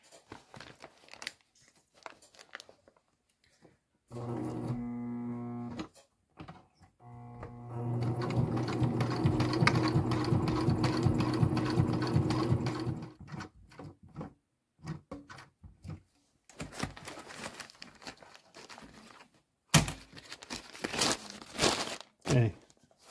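Sewing machine stitching a homemade food or bear bag, running steadily for several seconds and then a shorter burst, with fabric handling rustles and crinkles between the stitching runs.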